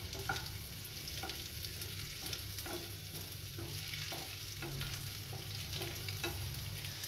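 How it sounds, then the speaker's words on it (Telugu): Food fries in an open pan with no lid, a faint continuous sizzle broken by repeated stirring scrapes and taps at an irregular rhythm. "సో నేను లిడ్ క్లోజ్ చేయక నేను అట్లే ఫ్రై చేస్తా ఉంటాను."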